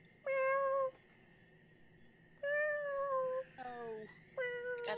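A cat meows repeatedly in distinct, drawn-out calls, a couple of them close together near the end, fairly clear and close against a quiet background.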